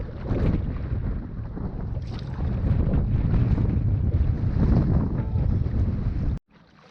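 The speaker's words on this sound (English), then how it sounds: "It's a little windy." Strong wind at a lake in the Boundary Waters Canoe Area buffets the microphone in a continuous loud roar, rumbling low and steady before cutting off abruptly near the end.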